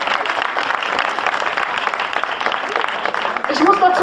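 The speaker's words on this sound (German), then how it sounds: "Nochmal einen riesen Applaus für die kleinen Pansy." Audience applause for a children's dance group, a steady dense wash of clapping from a crowd that stays even throughout and swells a little near the end.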